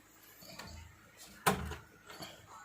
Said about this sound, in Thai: เปิดประตูนะ